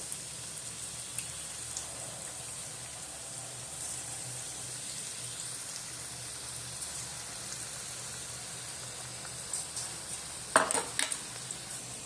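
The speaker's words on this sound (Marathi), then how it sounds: "त्याच तेलामध्ये आपण फ्राय करतोय" Chili pepper bhajji fritters deep-frying in hot oil, a steady soft crackling hiss running throughout, with a brief louder clatter near the end.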